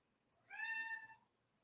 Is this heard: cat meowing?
yes